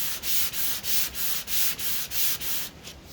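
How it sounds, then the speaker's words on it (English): A body part is sanded flat by hand in a steady rhythm of about nine even back-and-forth strokes, close and alone, with a bright rasping hiss on each pass. "I'm just going to have to go old school and sand away for"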